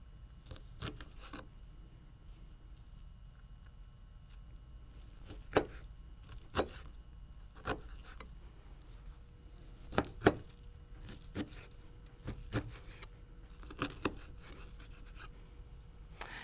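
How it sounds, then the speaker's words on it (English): Knife cutting slices of beef into 2-inch pieces on a board, a series of irregular, soft close chops and taps spread over the stretch, fairly quiet, with no talking. "now I'm going to cut these slices into 2-inch pieces so that they'll cook up quickly"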